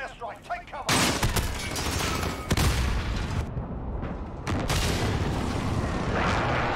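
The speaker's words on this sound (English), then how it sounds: "Enemy precision airstrike, take cover!" Explosions from an enemy precision airstrike in a Modern Warfare video game, with heavy booms rolling into sustained loud blasts and rumbling gunfire that nearly fill the clip.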